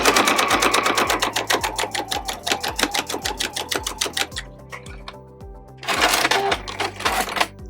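Close, rapid clacking of a sewing machine stitching two scrappy fabric strips with a quarter-inch seam for a zippered pouch, a rhythmic run that slows and pauses, then a short final burst.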